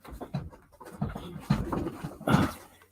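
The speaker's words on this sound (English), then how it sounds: "let my little munchkin dog in" A small munchkin dog pants in quick, rhythmic bursts close to the microphone, with no one speaking over it.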